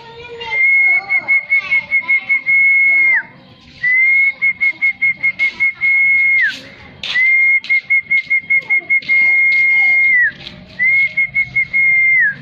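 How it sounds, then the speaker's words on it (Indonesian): A person whistles a sustained high note repeatedly, each long tone followed by a run of short chirpy whistles, close and clear. "tiupkan udara pelan-pelan sehingga menghasilkan suara siul"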